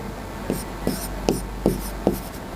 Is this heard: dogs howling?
no